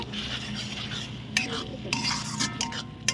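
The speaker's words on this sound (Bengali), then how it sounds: "একটু নাড়াচাড়া করব" A little water added to fried masala for banana-flower ghonto, stirred in a pan: a soft scraping stir with faint sizzle, a few sharp utensil clinks against the pan standing out near the end.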